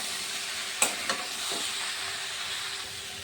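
Jackfruit and potato curry with spices sizzles and hisses in a pan, a steady steamy frying bed broken by a few sharp clinks and scrapes of stirring early on.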